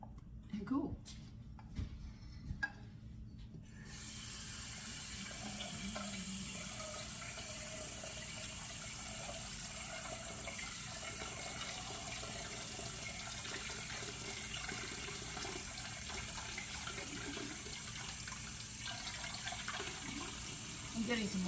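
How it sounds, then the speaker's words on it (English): Tap water runs into a pot from a kitchen faucet, starting suddenly after a few seconds of faint clatter and then pouring as a loud, constant hiss for a long stretch. "I'm getting some water in the pot because I know I have to."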